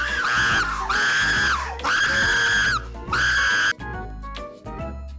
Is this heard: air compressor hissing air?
no